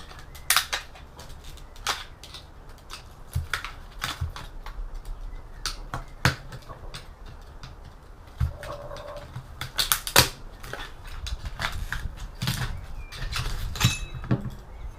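Ferrite from an old TV's copper bar is smashed up for scrap, giving sharp, irregular cracks and brittle snaps with gritty crumbling between, close by over a low background hum, without talk.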